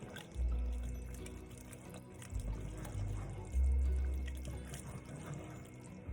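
Portuguese bean soup with macaroni stirred in a pot, giving soft wet sloshing and liquid swirls with low, thumping surges that rise and fall in a few uneven pushes, close and moderately loud, with no talking.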